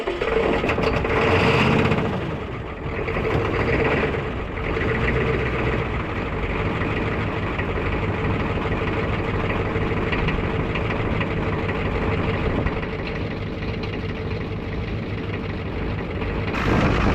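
Ford 6.9 IDI turbo diesel in cold weather on a single battery, cranking hard at first and then settling into a loud, steady, clattering idle that runs on without a break.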